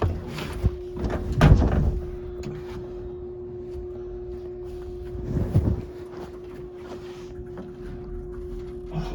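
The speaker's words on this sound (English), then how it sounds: "He's watching the door close." An unknown but very old modernized traction elevator at Elmgate Manor in Evanston, Illinois, slides its door closed with a couple of heavy rumbling thuds and clatters, a steady mechanical hum running underneath.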